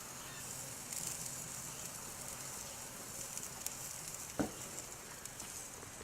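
Lamb burgers seasoned with salt and lots of pepper sizzle and fry in a pan, a steady soft crackling hiss running throughout with one brief louder pop near the end.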